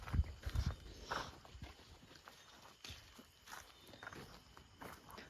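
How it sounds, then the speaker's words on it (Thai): Footsteps of someone walking inside a house, several soft irregular steps, a few close and thudding at first, then fainter and scattered. "ผมสงสัยไอ้เสียงเดินนี่แหละ มันดังหลายรอบเลย"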